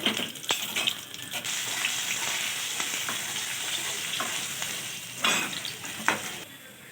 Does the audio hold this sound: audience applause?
no